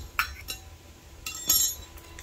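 A wrench works an 8 mm bolt off a Honda Grom engine cover, giving a few faint, brief metallic clinks and ticks spread over a couple of seconds in a quiet setting.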